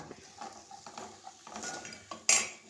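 A spoon mixes turmeric into chicken curry in a metal pot, making soft, uneven scraping and stirring sounds that end in a sharp metallic clink, with no one speaking.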